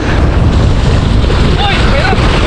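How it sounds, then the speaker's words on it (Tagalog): Strong wind buffets the microphone outdoors in shallow water during a fishing trip, a loud, steady roar that fills the whole clip. "Lakas ng hangin."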